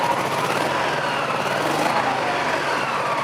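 A Honda PC-800 motorcycle engine idles steadily while it warms up from cold, a close, continuous broadband mechanical rumble with no voices.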